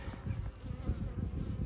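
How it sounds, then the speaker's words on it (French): Honeybees buzzing steadily at the entrance of a hive as foragers arrive, a dense low hum that stays even and close throughout, with no voices. "les abeilles qui arrivent"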